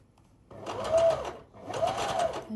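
A sewing machine stitches a sleeve onto a blouse in two close bursts of rapid, steady whirring, separated by a brief pause and ending abruptly.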